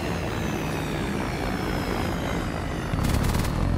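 Allied aircraft roaring overhead in the Call of Duty Black Ops 3 game on the Nuketown map, a steady loud engine drone that swells into a stronger rumbling pass near the end.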